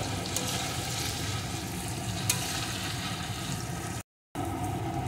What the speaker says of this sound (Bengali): এখন বেশ কিছুক্ষণ সুন্দর করে ভেজে নেব